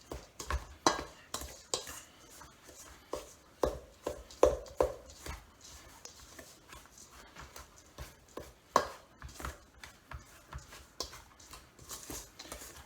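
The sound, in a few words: metal spoon stirring coconut into cookie batter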